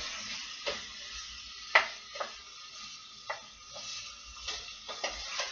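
Onions cook in a pan for an herb ratatouille with a quiet, steady sizzle, broken by occasional sharp clinks and scrapes of a utensil stirring against the pan.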